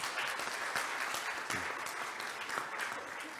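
Audience at a 2022 mayoral all-candidates forum in Fort St. John applauds the timekeeper, a steady wash of clapping sustained evenly throughout with no talk over it.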